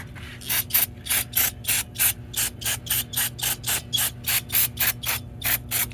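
GE record player mechanism worked back and forth by hand, giving a steady series of about twenty close, even ratcheting clicks over a low background hum, with no talk.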